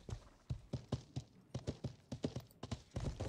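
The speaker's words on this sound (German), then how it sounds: "der Topper reitet mit dem Pferd" Horse hooves clip-clop at a steady trotting rhythm in the medieval game Life is Feudal, a run of crisp, evenly spaced hoofbeats heard alone and fairly close.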